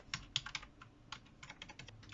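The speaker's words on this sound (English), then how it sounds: "I'm going to start typing." Rapid, crisp key clicks from a Logitech Bluetooth keyboard being typed on, close and fairly quiet, in short uneven bursts with brief pauses between words.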